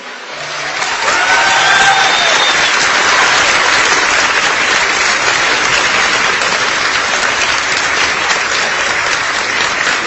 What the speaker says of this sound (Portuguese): Eu sei que é fácil para vocês baterem palmas.